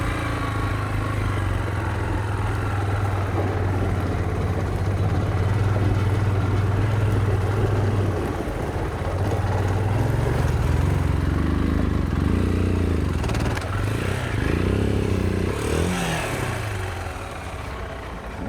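Motorcycle engine with a stripped front sprocket running steadily at low revs, with a few rising and falling throttle changes toward the end, close and loud with no talking.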